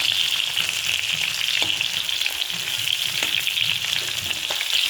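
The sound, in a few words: fish curry frying while cooking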